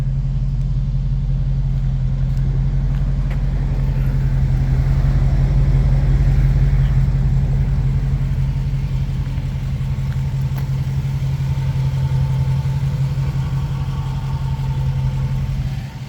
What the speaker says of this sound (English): It does have a catback aftermarket exhaust on it.